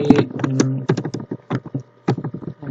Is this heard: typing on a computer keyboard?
yes